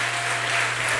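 A church congregation applauds during a worship service, continuous dense clapping at steady volume with a low hum beneath it.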